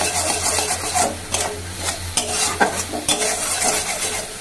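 Spice paste being stirred and fried in a pan, with a soft steady sizzle and irregular scraping strokes of a spoon against the metal, close and fairly quiet with no talk.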